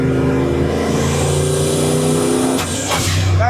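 A turbocharged 331 engine in a 1976 Ford F250 truck revs loudly with a steady droning note, then gives sharp hissing bursts as the boost cuts out before the engine picks back up. No one speaks.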